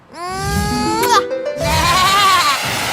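A cartoon sheep bleats in a long wavering cry, then a second quavering bleat, loud and close, with a brief bright chime-like accent between them.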